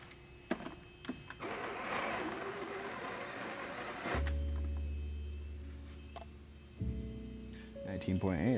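A Breville coffee grinder grinds light roast beans with a steady whirring motor hum that shifts pitch partway through, with a person talking over it.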